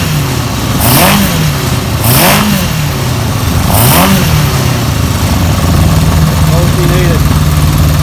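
A Yamaha XJ600 four-cylinder motorcycle engine runs after a carburetor clean, idling slightly lean with three rising throttle blips, loud and close, while a person talks over it.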